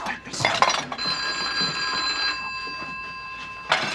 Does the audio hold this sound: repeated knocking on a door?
no